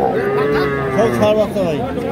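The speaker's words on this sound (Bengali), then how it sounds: "ষাঁড় বাচ্চা" A young bull calf at a busy Bangladeshi cattle market gives a long, drawn-out, wavering moo close by, loud and continuous over faint crowd noise.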